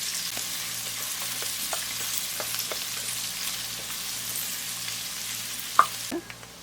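Chopped onion sautéing in a hot pan for taro root chicken keema gives a steady, close sizzle with scattered light scrapes and taps of stirring, ending with a sharp clack and a short drop in level.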